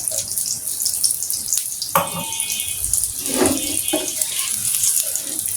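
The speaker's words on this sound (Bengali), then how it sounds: "এটা অলরেডি একটু ভাজা হয়ে গেছে, সুন্দর করে তেল এড করবো।" A potato paratha fries in oil in a pan on a home stove, giving off a steady bright sizzle that swells sharply when fresh oil hits the pan, with a few light clinks along the way.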